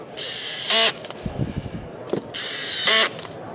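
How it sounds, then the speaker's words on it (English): A clip drive tool fastens hidden deck clips between deck boards with two short, loud buzzing drive bursts, each followed by clattering and knocking handling noise. "So I'm gonna grab what we call our clip drive tool."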